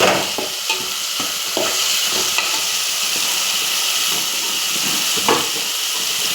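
Food sizzles in a pan while noodles are cooked at home, a steady frying hiss broken by a few scraping stirs of the utensil.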